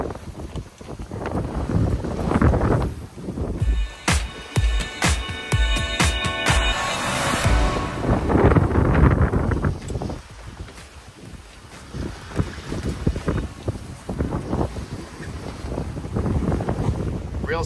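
A sailboat running in strong wind and surfing waves, with loud, continuous wind buffeting the microphone, water rushing past the hull and occasional rattling and clanking from rigging, all sustained throughout.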